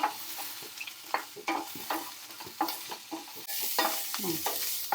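Tomatoes and dried red chillies fry in a pan for a chutney, giving a steady sizzle broken by repeated scrapes and clatters of stirring, close and alone with no voices.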